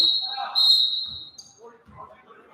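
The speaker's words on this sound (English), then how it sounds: "And now a whistle sounds," A referee's whistle sounds during a basketball game, with a long shrill blast that rises again briefly, followed by faint court noise and distant voices.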